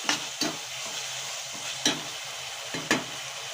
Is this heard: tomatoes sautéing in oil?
yes